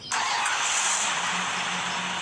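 A vehicle engine in the Free Fire video game starts with a sudden onset and then holds a steady, loud, hissing engine drone for a couple of seconds, with no talk.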